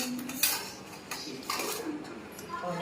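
Meat curry is poured slowly from a pot, with a few metallic clinks and scrapes of the pot and utensil that are faint and close, alongside a soft voice.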